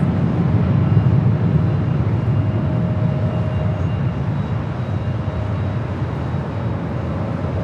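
Airplane taking off at Los Angeles International Airport: a loud, continuous broadband jet roar holding steady.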